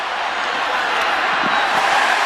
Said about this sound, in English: 3rd and 12. Crowd in full throat.